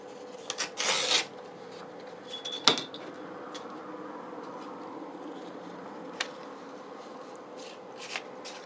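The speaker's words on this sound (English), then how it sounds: "So I need to just trim this down a little" Paper edge of a notebook page being trimmed, with soft scraping and cutting bursts near the start and a few brief snips later, faint and close against a quiet room.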